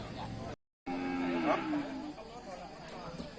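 Cattle at a livestock auction give a clear, drawn-out moo that rises and bends in pitch. A short silent gap comes before it and quiet crowd noise continues behind it.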